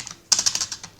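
Typing Java code on a computer keyboard: a quick burst of crisp key clicks starts after a short silence, several close, distinct taps in an uneven rhythm, with no talk.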